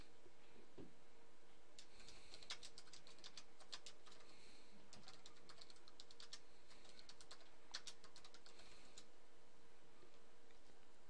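Someone types a blog post title on a computer keyboard: quiet, quick clicking keystrokes in short irregular bursts over a low, steady room hiss.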